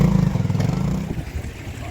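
A trials motorcycle coming up during the Scottish Six Days Trial, a close, loud burbling engine with rapid pulsing putters that ease off and fade.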